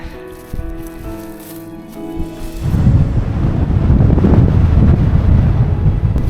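Strong wind blusters across the microphone on an Arctic Norway hike, a loud, rough, continuous roar that surges in after a quieter stretch of tonal sounds at the start.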